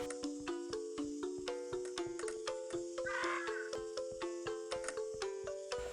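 A crow cawing in the video game Monument Valley, repeated caws heard over a steady rhythmic musical backdrop of plucked tones, fairly quiet throughout.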